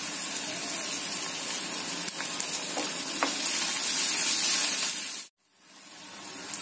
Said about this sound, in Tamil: கடுகு பொரிஞ்சிருச்சு, வெங்காயம் சேர்த்துக்கலாம், கொஞ்சம் கருவேப்பிலை சேர்த்துக்கலாம்.